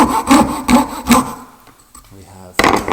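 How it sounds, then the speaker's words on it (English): A coping saw cuts a wooden dovetail in a rhythmic run of about four rasping strokes, close and distinct, then pauses briefly before one more stroke begins. "I need to get my coping saw turned. If I turn that straight away it'll snap, so I've got to cut and turn."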